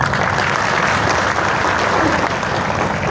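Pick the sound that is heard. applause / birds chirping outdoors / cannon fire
applause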